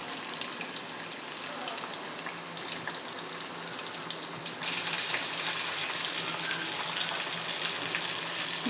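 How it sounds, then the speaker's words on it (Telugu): Jilebi fish sizzles as it fries in hot oil, making a continuous bright crackling hiss that holds steady and fairly loud throughout, with faint sounds of a kitchen around it. "హాయిగా ఫ్రై చేస్తున్నాను"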